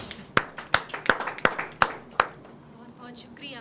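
Six sharp, evenly spaced hand claps from an audience at a Hindi poetry gathering welcome poet Ruchi Bahrali, ringing out loud and close before a quieter murmur follows.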